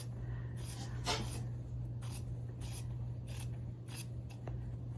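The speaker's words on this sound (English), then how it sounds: "I am going to cut this button placket off like this" Scissors snip through the button placket of a men's shirt, a series of soft, crisp cutting strokes close by, spaced irregularly over a low steady background hum.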